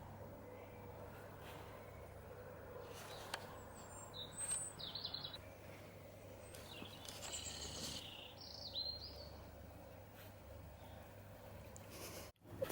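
Small bird chirping beside a frozen, iced-over pond outdoors, a few short bright calls scattered through the middle of the clip, faint over a steady low hum of background noise.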